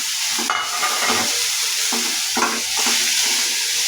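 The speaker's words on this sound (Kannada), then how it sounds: "ಅದಕ್ಕೆ ಚೆನ್ನಾಗಿ ತುಪ್ಪ ಹಾಕಿ" Grated beetroot frying in ghee for halwa, with a steady sizzle under repeated stirring strokes of a spoon against the pan, close and moderately loud, with no talking.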